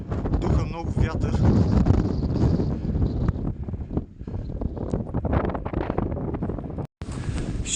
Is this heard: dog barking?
no